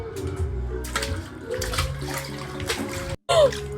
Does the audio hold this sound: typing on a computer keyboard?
no